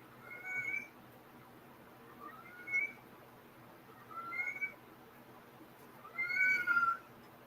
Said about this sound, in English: That's my cat, if you're wondering.